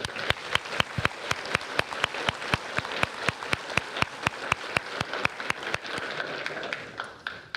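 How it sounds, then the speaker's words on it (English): Parents and community members applaud at a high school underclassman awards ceremony. Sharp, fairly regular claps ring out at close range over a softer crowd patter, then thin out and fade near the end. "let's give all of these our winners this morning a round of applause"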